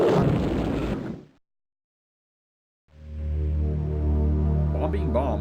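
A bomb blast from a Windows 3.11 video game: a loud, rough burst of noise lasting about a second that cuts to silence, followed by a steady, buzzing harmonic tone.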